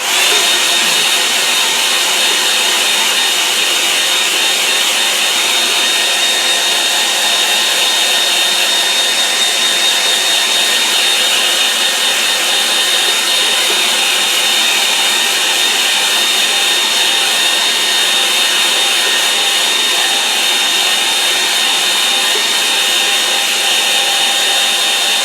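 A hair dryer blowing steadily over a watercolour painting, a continuous even whirring hiss with no breaks, close and fairly loud, heard alone without talk.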